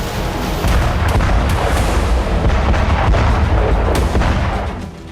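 Cluster bomb and artillery blasts from wartime footage in the Russia-Ukraine war make a loud, dense rumbling barrage of overlapping booms that runs nearly without a break before easing at the end, with no voices.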